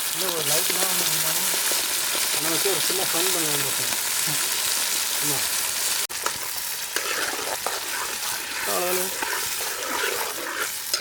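Ground tomato-onion masala with spices fries loudly in a pan for an egg omelette kulambu while a ladle stirs it, scraping and sizzling continuously. A voice is faintly present early on.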